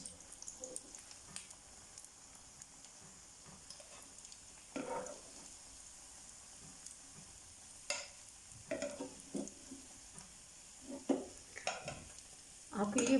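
Potato bread rolls fry on low heat until brown, giving a soft continuous sizzle broken by intermittent scraping and stirring in the pan, louder toward the end.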